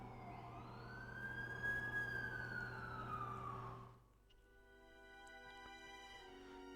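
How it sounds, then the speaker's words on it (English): An ambulance siren in The Amazing Spider-Man 2 video game wails with a smooth rising and falling tone that fades out partway through, leaving quieter background game sounds. "That's the ambulance I called."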